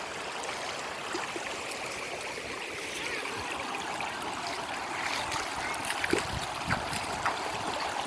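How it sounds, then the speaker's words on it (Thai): Floodwater flowing strongly across a flooded road in a Thai village, a continuous rushing, gurgling stream heard up close with occasional small splashes. "ที่น้ำ ไหลแรง ๆ นี่คือถนนนะคะ น้ำมันท่วมมันไหลลงมาจากด้านนู้นค่ะ"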